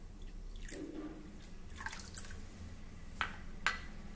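About two and a half cups of water go into a pot, heard as a few faint drips and light splashes over a quiet room background with no talking.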